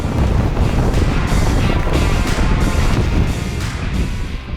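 Strong wind blows hard outdoors in Colorado, roaring steadily and loudly against the microphone with no let-up.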